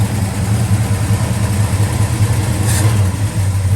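A 1968 Pontiac GTO restomod engine idles steadily up close, a loud, even low rumble with a slight lumpy pulse and no talking.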